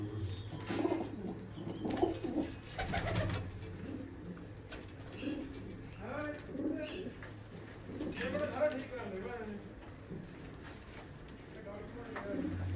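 Pigeons kept by a fancier coo softly in a loft, with low repeated coos and occasional wing flaps running beneath steady conversation between men nearby.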